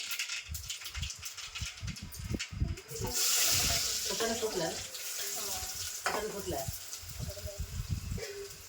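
Cumin and mustard seeds spluttering in hot oil for tomato sambar, crackling and popping with a brief louder hissing burst, heard beneath a voice talking over the pan.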